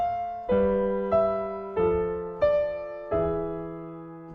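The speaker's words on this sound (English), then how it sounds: "Now we've made our chain of suspensions, and the whole thing sounds like this." A lament bass progression with a chain of suspensions plays as sustained chords changing roughly every two-thirds of a second, with a descending bass line and tied-over upper notes, moderately loud and alone.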